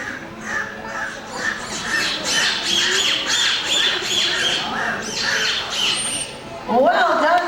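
Rapid squeaky whistles and squawking calls repeat in bursts, dolphins vocalizing at close range during a marine park show, with a voice speaking briefly at the end.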